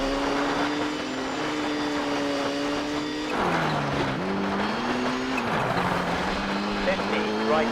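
A rally car in the PS2 World Rally Championship game on a Great Britain stage holds a steady engine drone, with pitch dips and tire-scrub noise as it slides through corners, while a voice talks over it.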